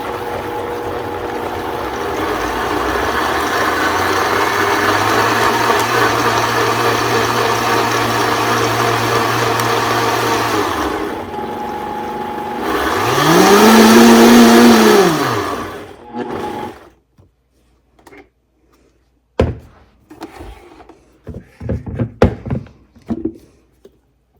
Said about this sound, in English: Now I'm going to blend that until it's smooth.